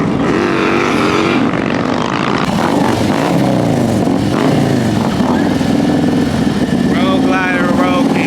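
A motorcycle engine bogs at the starting line of a drag race at an outdoor motorcycle event in Houston, with a loud, heavy, sputtering roar that never clears, close and continuous, while people nearby talk and shout over it.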